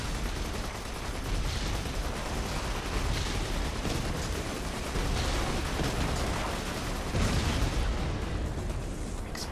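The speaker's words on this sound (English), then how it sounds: "Explosion." A vehicle blows up in the video game Borderlands 2, giving a loud, dense roaring blast that rumbles on steadily for several seconds with no pause and no voices.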